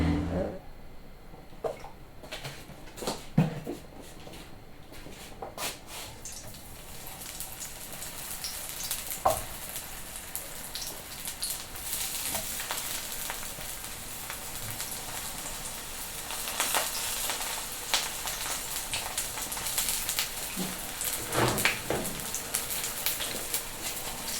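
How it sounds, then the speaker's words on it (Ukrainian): Eggplant slices fry in hot oil in a pan for a preserved eggplant pâté, giving a dense, steady crackling sizzle close by, with occasional clatters of stirring and a rising hiss as more oil spits. "баклажани дуже швидко смажаться."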